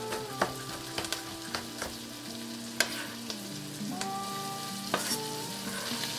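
Fresh thyme, lemon and sweet red pepper sauté in a pan, a soft steady sizzle with occasional stirring scrapes and clinks of a utensil at close range.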